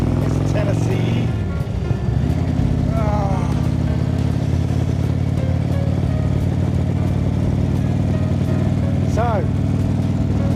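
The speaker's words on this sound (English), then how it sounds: "Oh, feels good to be out on the bike." Indian motorcycle riding along a road in Tennessee, carrying two up with packed luggage; a steady engine drone runs throughout, and a voice speaks briefly over it near the start.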